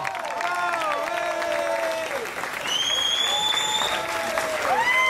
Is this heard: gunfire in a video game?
no